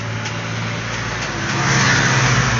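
An air conditioner fan motor, just rewired and repaired, runs with a steady, loud whirring hum that swells slightly near the end.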